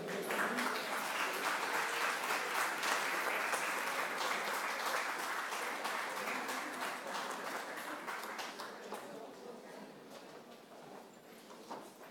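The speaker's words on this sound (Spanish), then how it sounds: "Un aplauso para ellos también." Sustained audience applause at a labor and social security law congress at a bar association, honoring the social defenders; a dense, steady wash of many hands clapping that fades gradually toward the end.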